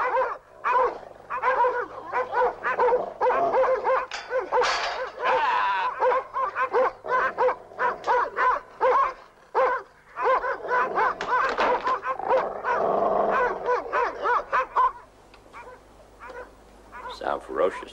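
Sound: dogs barking ferociously, from a TV series

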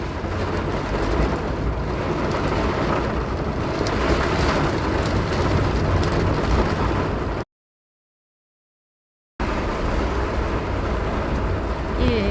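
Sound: heavy rain

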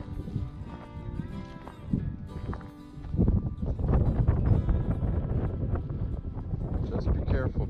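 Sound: wind blowing outdoors

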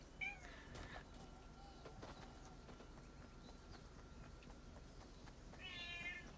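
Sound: cat meowing

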